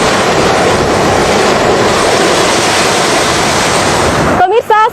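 Surf on a long west coast beach in North Sumatra roars as a loud, steady wash of breaking waves, then a voice begins speaking just before the end.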